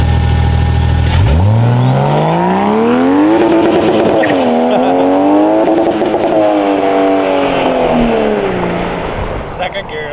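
A BMW with an N54 engine and 8HP50 transmission swap accelerates hard in first gear on slightly wet pavement with bald tires, its loud engine note climbing steadily through the rev range, close and dominant, with voices underneath.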